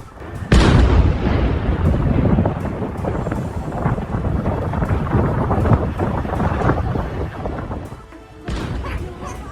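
A sudden loud blast from a 2,000-pound bunker-buster bomb striking Isfahan, Iran, followed by a long, rolling, rumbling roar that slowly fades, with gusty wind-like noise throughout.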